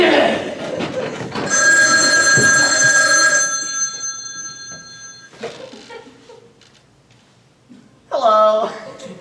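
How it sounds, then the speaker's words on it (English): A telephone rings on stage during a high school theatre production, a loud sustained bell ring that stops, then a short second ring burst near the end, with quieter stage sounds between. "It's the phone again."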